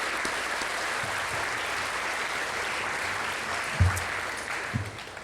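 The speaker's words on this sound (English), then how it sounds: "another round of applause for these graduates on where they're at tonight" Sustained crowd applause at a high school graduation ceremony, steady and dense throughout with a few louder nearby claps and a brief thump near the end.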